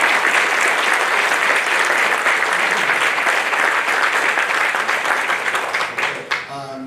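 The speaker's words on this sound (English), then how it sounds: "Now a round of applause for all of our special guests." Loud, sustained applause from a large crowd, dense clapping that holds steady and then begins to thin out toward the end.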